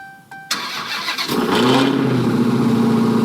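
Salvage-auction Dodge Challenger Hellcat engine cranking briefly and then catching, settling into a loud, steady idle that rumbles on to the end, close up and free of speech.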